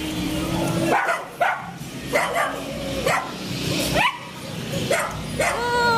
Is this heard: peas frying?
no